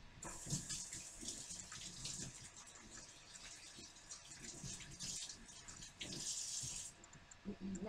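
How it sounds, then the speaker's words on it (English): Water runs steadily from a tap with splashing and rubbing as hands are washed beneath it, fairly close, with faint voices in the background. "Wash my hands."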